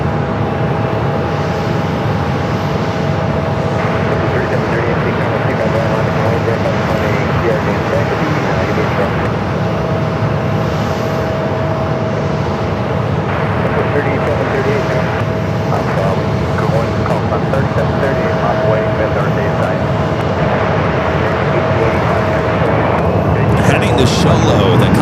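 A Contour Aviation ERJ 135 LR regional jet at Phoenix Sky Harbor Airport gives a loud, steady engine roar and rumble. Someone talks over it much of the time.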